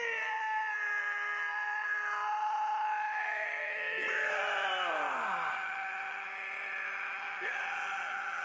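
At the end of a music record, after a long silence, a voice lets out drawn-out screams and wails that slide up and down in pitch, loud and close, with no music or other sound.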